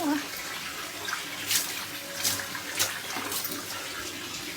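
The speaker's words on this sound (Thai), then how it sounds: "ล้างมือก่อน" Hands are washed under running tap water, a steady close stream with brief splashes and rubbing bursts at a few points, with a voice heard faintly in the background.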